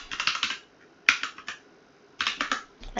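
Typing on a computer keyboard: bursts of quick, close key clicks in two runs separated by a brief pause, with a single sharper tap between them.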